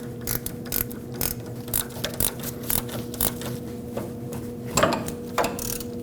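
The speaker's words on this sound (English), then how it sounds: "it allows me to spin it with an extension and a ratchet from here." Ratchet with an extension turning an inner tie rod tool on a 1998-2011 Ford Ranger, giving a series of sharp, evenly spaced clicking pawl bursts, close and fairly loud over a steady low hum, with no talk.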